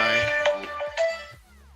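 A phone ringtone sounds close and clear, a bright melodic sequence of tonal notes that plays for nearly two seconds before fading slightly.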